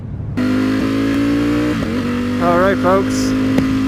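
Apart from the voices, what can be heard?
2018 Ducati V4 Speciale motorcycle engine revving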